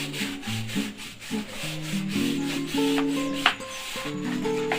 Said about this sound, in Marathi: शेवाळ करायची मशीन आणली आहे मुंबईवरून